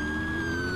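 A police car siren in the Roblox game Vehicle Simulator, a piercing, steady electronic tone held over a low engine hum, loud and close with no talk over it.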